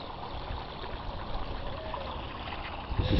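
Water trickles in a steady, faint hiss along the discharge channel of a hazardous waste battery landfill near where it meets a creek, a continuous outdoor wash with a slight bump at the end.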